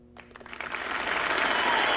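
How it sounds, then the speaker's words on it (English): Canned applause plays during a livestream, starting with a few scattered claps and quickly swelling into a dense, loud, sustained ovation that keeps building to the end. "can we get the applause or something?"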